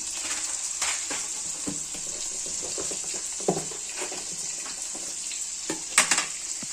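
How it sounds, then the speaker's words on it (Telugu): Cumin seeds, black peppercorns and garlic fry in hot oil in a pan with a steady, close crackling sizzle and a few sharper pops and stirring clicks. "బాగా ఫ్రై అవుతున్నాయండి."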